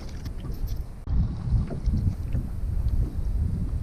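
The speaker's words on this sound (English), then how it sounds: "There's wind blowing me backwards fast." Wind buffets a small fishing boat on the water, a rough, gusty roar pressing close against the microphone with a sharp drop and surge near the start, continuing steadily after.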